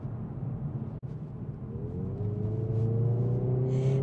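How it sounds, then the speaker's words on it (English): Hyundai i30N hatchback engine gargling through its sports exhaust, a steady loud drone that rises in pitch as the car accelerates, with a brief dropout near the start. "The engine is as aggressive and raucous as it ever was, gargling through that sports exhaust"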